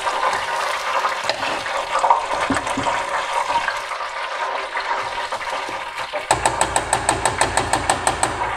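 Water is splashed quickly into a pan of frying vermicelli, setting off a loud, steady sizzle and bubbling that rises sharply partway through, with a brief voice under the noise.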